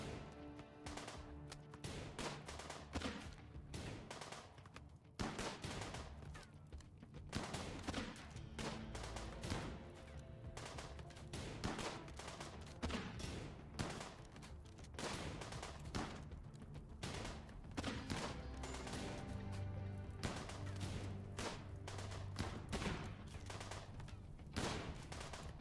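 Sustained, dense gunfire from a video-game firefight as three colonists sheltering behind rocks trade shots with raiders; overlapping bursts and rapid shots crackle nonstop, loud and close, for the whole stretch with no talk.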